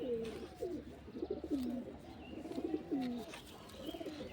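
Soft, repeated cooing from a Madras pigeon close by, a series of low throaty warbles rising and falling over a few seconds with faint background hum.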